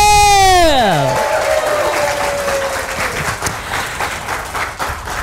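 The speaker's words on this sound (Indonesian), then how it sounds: "tepuk tangan dulu buat komunitas Amazing True" Audience applause at a community health talk, steady clapping that follows a descending musical tone and continues at moderate loudness to the end.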